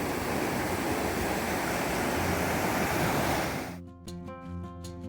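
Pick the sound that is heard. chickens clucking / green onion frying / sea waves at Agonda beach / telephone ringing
sea waves at Agonda beach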